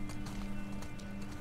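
Horse hooves in The Last of Us Part II clip-clop in a steady, fairly quick rhythm over a constant low hum, moderately loud and unaccompanied by speech.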